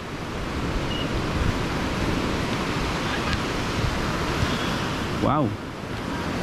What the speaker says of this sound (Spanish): acá el oleaje está un poco más fuerte de repente